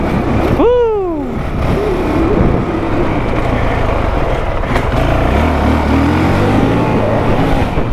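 A 2023 Honda CRF450X dirt bike engine runs loud and steady on a test ride, with a sharp rising rev near the start and continuous engine roar and wind rumble throughout, no voices.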